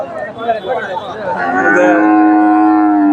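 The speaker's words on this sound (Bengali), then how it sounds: "এ পাশে মোটামুটি প্রচুর গাভী আছে ফ্রিজিয়াম জাতের গাভী" Friesian cows mooing at the Dhap cattle market in Bogura, Bangladesh. A busy crowd murmurs at first, then a long, loud, drawn-out moo rings out close by.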